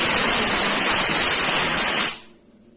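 A pressure cooker holding pav bhaji vegetables in water lets out a loud, steady, steamy hissing whistle with a high whine, held for about two seconds before it abruptly cuts off to near silence.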